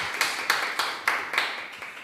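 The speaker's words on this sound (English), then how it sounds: "Let's clap them too." Audience clapping for the judges at a school debate match, a thin scattering of claps in a sparse, uneven rhythm, fairly quiet and without talk.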